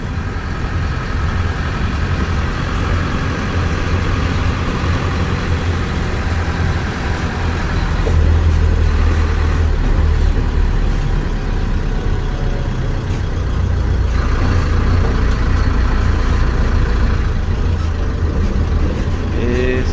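A bus engine runs loud and continuous throughout, its low rumble rising in bursts as it revs between gear changes, with a deep throb dominating and brief surges around the middle and later stretch.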